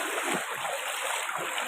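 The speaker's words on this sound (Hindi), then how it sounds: "आप लोग देख सकते हैं कितना ज़बरदस्त पानी की धारा बह रही है।" Strong floodwater from the Rapti River current rushes through the village of Mahuadhani in Balrampur, flooding into houses, a steady broadband wash of flowing and splashing water heard up close without a break.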